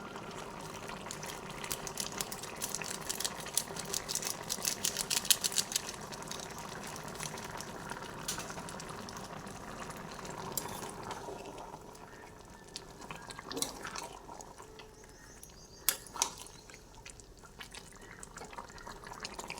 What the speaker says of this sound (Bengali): পাঁচ মিনিট ফুটিয়ে নেব বেশ কিছুক্ষণ ফুটেছে গ্রেভিটা ঘন হয়ে এসছে